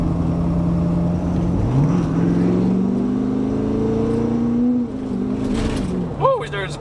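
A Ford 6.7 Powerstroke diesel truck with aftermarket tunes accelerates hard, its engine tone climbing steadily through a long pull before dropping off, heard from inside the cab with people talking and whooping over it.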